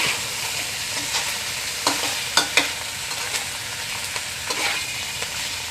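Catfish pieces fry in hot, spicy red curry paste for a stir-fried catfish dish, with a constant close sizzle and several sharp scrapes and clacks of a stirring utensil.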